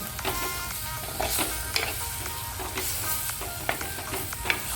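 Spices and garam masala sizzle steadily in a pan over a slow flame for a prawn milk curry, with scraping stirs and soft clinks breaking through the continuous frying hiss, close and alone.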